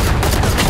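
A dense burst of rapid gunfire fills the clip, loud and continuous from a Valorant match firefight, with no talking.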